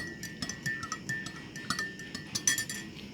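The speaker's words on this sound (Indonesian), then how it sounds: "kita aduk sampai merata" A metal spoon stirs salt into warm water in a glass, making a quick run of light, close clinks against the glass, steady and fairly soft.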